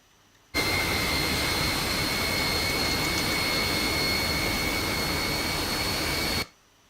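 A MiG jet engine in a video game roars up abruptly and holds a steady, loud whine with a high tonal hum, then cuts off sharply.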